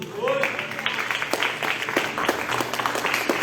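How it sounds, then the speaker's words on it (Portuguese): A church congregation applauds during a communion service, a dense patter of many hands clapping steadily at moderate volume throughout, with a faint low hum beneath. "Você pode aplaudir o Senhor?"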